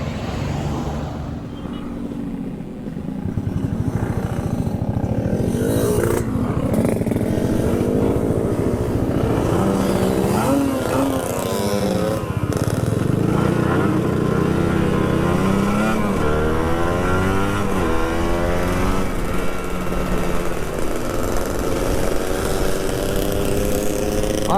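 A motorcycle at full throttle runs loud and steady, with the engine droning under heavy wind rush on the way down from Malino.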